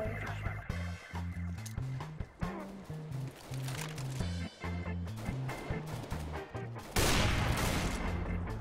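Gunfire from a round of the shooter game CS:GO, repeated rapid bursts of shots in a rhythmic pattern over a droning game soundtrack, getting louder and noisier toward the end.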